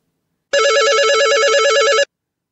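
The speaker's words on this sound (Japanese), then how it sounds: "着信音は普通です" A phone ringtone for an incoming call in the Oni call app, a steady warbling electronic ring lasting about a second and a half, loud and alone with no talk over it.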